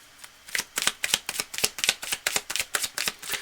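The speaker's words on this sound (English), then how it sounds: "We're going to shuffle for a moment." Tarot cards are shuffled by hand in a quick, even run of about fifteen crisp riffling bursts, close and clear with no voices.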